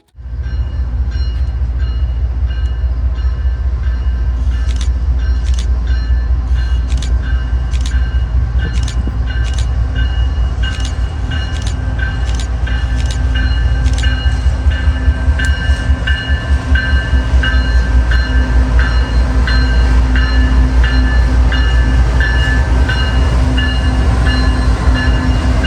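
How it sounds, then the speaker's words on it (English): A grain freight train rumbles steadily past, loud and continuous, with rhythmic clacking of wheels over rail joints and a sustained low roar throughout. "As the grain train is passing,"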